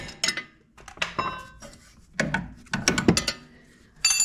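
Wrenches working an 18 mm and 22 mm fitting on the inner and outer tie rod of an early 2000s Audi A4 Quattro, giving several close, sharp metallic clicks and clanks in separate bursts with short pauses between them.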